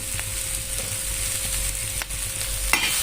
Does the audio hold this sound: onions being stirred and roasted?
yes